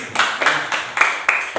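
A handful of hands clap together in a classroom, about six brisk, evenly spaced claps ringing out close by with no talk over them.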